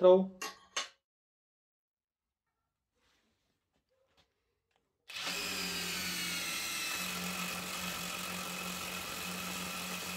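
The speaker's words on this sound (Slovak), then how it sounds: "Ďalej porovnáme rýchlosť vrtania do ocele o priemere 10 mm." A Parkside Performance PDSSAP 20 Li cordless impact driver drilling a 10 mm hole into steel, starting abruptly after brief sounds and a silent pause, then whirring with a steady, close, high-pitched motor whine.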